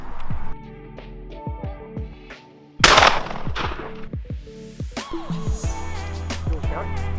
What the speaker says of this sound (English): just pulling the trigger, Mush.